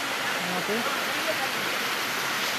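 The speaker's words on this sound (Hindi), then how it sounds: "कितना प्यारा झरना है।" Steady, broad rushing roar of a large waterfall at a temple site, continuous and fairly distant, with a voice speaking briefly over it.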